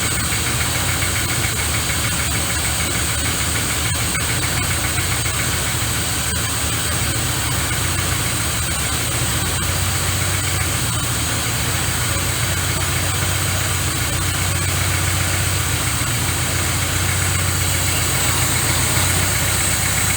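A car engine idles steadily while its carburetor mixture screw is slowly adjusted, a continuous rumbling, slightly knocking drone with constant vibration, loud and close for the whole stretch.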